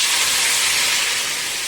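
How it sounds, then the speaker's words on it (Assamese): Fish simmers in a pot of water with tomato, giving a steady, close, bubbling hiss that fills the moment without any talk. "এয়া মাছখিনি উতলি আছে পানীৰ সৈতে।"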